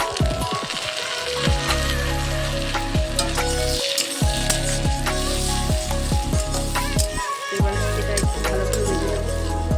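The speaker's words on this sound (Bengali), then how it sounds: "পেঁয়াজটা ব্রাউন করে ভাজা হয়ে গেছে এবার এর মধ্যে টমেটো কুচি দিয়ে দেবো" Browned onions and chopped tomato fry in a pan with a loud, continuous close sizzle, broken by occasional spatula clanks and stirring.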